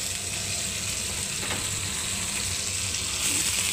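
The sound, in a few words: cauliflower and vegetables sizzling as added to hot oil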